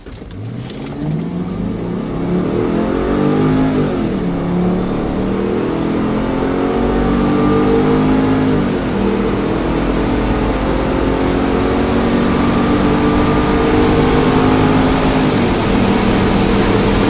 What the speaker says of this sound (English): High on the RPMs, you can hear the engine starting to make this very nice V8 sound.